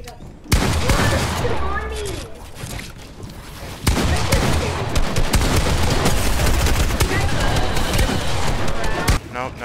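Gunfire in an online shooter rattles almost without pause, dense bursts and loud cracks piling up over nearly ten seconds, with a sharp sudden onset and a heavier stretch of shots in the second half.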